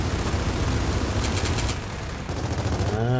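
Automatic gunfire bursts loud and dense throughout a Gears of War 4 firefight, overlapping with steady game noise and a brief electronic warble at the end.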